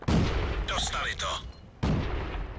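Tank cannon blasts from World of Tanks, two heavy booming shots with a voice briefly talking between them, each report loud and abrupt with a rumbling tail.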